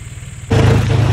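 A parked tractor's engine idles near and loud, starting up abruptly partway through with a rough, uneven running note that suggests misfiring.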